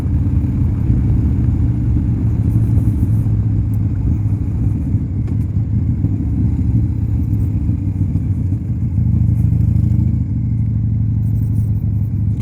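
A 1987 Harley-Davidson FXRC is ridden along a road, its engine a loud, steady, close rumble with a low throb that holds throughout, a slight easing near the end, and no talking.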